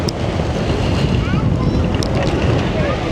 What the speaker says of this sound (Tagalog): glass bottom boat